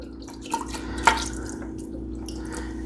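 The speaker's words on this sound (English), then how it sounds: "And I'm gonna add some broth, or you could add water." Broth poured into an Instant Pot while making corned beef and cabbage: soft liquid splashing and dripping with a single brighter splash near the middle, quiet and close, no talking.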